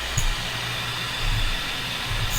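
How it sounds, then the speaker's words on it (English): A shop vacuum runs steadily as dust extraction while carbide is ground, a constant broadband whoosh with faint low hum and no talk. "Got the vacuum going."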